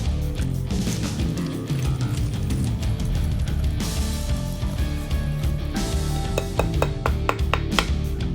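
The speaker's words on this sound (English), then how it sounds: "Whisk until all of the ingredients are combined" A whisk clatters fast and rhythmically against a bowl while pumpkin pie filling with eggs and toasted spices is mixed, close and continuous with sharp ticking strokes.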